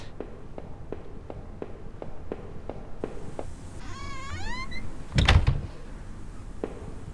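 In the game HOME, a door creaks open with a short rising squeal, then a heavy thud, after a run of soft, evenly spaced footsteps.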